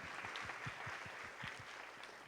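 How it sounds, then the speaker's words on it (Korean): Steady applause from a gathered audience, quiet and slightly distant, with a faint rhythmic low thumping running beneath the clapping. "다시 한번 박수 한번 쳐주세요."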